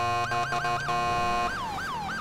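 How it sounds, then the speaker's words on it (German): Police car siren from the video game GTA 5, a loud, close wail sweeping up and down in repeated cycles over a low engine rumble and music, with no speech. "Ich glaube, ich mache die Sirene mal aus, um nicht aufzufallen."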